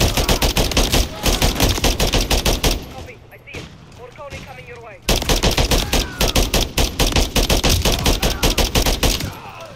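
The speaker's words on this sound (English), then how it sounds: "Oh, because they're shooting at Farrah, too." Rapid automatic gunfire from a snowy sniping mission in Modern Warfare III, loud, close bursts of shots that break off for a couple of seconds in the middle and then resume, with voices in the game heard faintly during the pause.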